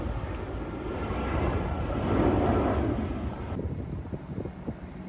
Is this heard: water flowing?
no